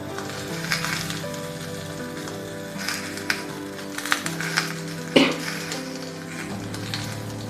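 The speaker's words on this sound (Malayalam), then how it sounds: "ആദ്യം നമുക്കെന്താ തക്കാളി ചേർത്ത് കൊടുക്കാം." Tomatoes sizzle in a hot pan for a beef curry, a steady frying hiss with a few soft clatters and scrapes of stirring, close and moderately loud, with a low hum underneath.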